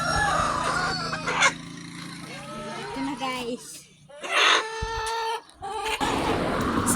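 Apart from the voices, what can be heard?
chicken clucking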